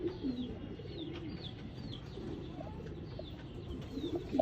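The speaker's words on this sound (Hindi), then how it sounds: "नायाब हालत का बटेरा कबूतर इस वीडियो में हाज़िर है।" Batera pigeon in show condition cooing in soft, repeated low calls, with faint chirps of other birds higher up and steady background murmur throughout.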